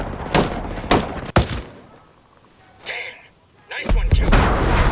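Gunfire in a soldier role-play video game, a few loud close shots and blasts in quick succession, a quieter gap, then another burst of loud firing.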